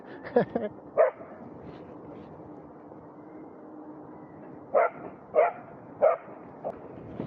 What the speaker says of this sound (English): There's a dog's chasing me.